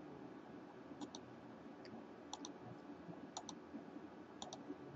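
Computer mouse clicks while editing a table in Microsoft Word: soft, close double clicks come in small pairs and singles at irregular intervals over a quiet, faintly hissing room.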